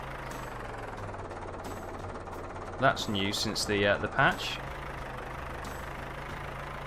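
A tractor engine in the farming game Professional Farmer 2014 hums low and steady throughout, with a brief burst of speech-like sounds in the middle.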